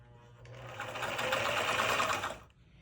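A sewing machine runs steadily for about two seconds, stitching a small dart in faux fur, starting and stopping cleanly with no talk over it.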